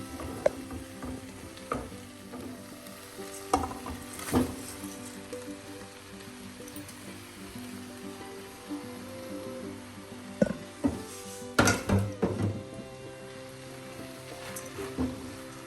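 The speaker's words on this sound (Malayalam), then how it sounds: "റൈസ് ചേർത്ത് നമുക്കൊന്ന് മിക്സ് ചെയ്യാം." Soaked rice being stirred into wilted vegetables in a pan for egg vegetable rice, soft sizzling under repeated scraping and clinking spoon strokes that come in scattered bursts, fairly quiet and close.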